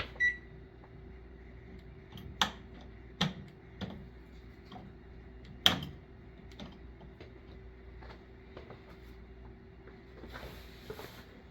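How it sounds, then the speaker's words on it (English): A replacement oven igniter gives a few sharp, separate clicks over a steady low hum, spaced irregularly and fading to faint ticks toward the end, with no voices. "Now, as you can see, the igniter is lighting."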